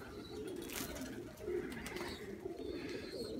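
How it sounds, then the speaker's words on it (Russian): Domestic pigeons coo softly in a loft on a rainy day, a few low burbling calls rising over steady background patter and faint rustling. "Это тоже старая голубочка."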